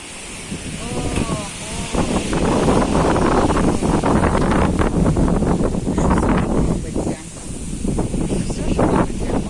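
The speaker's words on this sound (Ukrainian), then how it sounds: "дуже дуже сильний вітер" Strong wind roars and buffets the microphone continuously, with gusts surging and a few faint voices at the very start.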